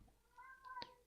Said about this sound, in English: Could you hear my cat? That was my cat.